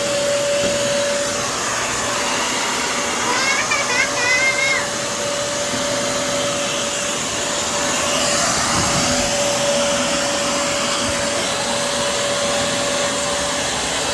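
A Shark CarpetXpert carpet cleaner runs in deep clean mode with a loud, steady motor whine and airflow roar, continuous and close throughout, with a faint high tone and slight variations as it moves.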